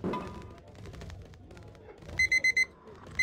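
In a video game, a beeping alarm clock sounds as four quick, bright beeps in a row, then one more, over a busy, low game soundscape with scattered thumps.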